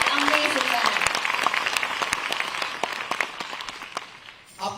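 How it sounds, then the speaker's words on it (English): Dense applause from an audience at an Indian Navy symphonic orchestra concert fills the space for a band, steady at first and then thinning out and fading toward the end. "Can we have one more round of applause for this amazing, amazing band?"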